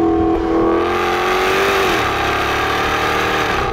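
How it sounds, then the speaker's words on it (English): A Jaguar XKR-S supercharged V8 revs hard, its exhaust valves open, with a rising engine note that drops sharply on a downshift into a cracking burble, loud and close with no talk. "On downshifts, it produces a crack that is incredible."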